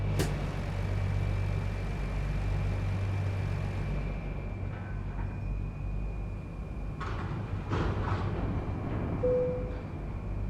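Rail yard ambience in American Truck Simulator plays around a Kenworth W900L with grain hopper doubles: a low idling drone with faint hisses and a few metallic clanks, all quiet and distant.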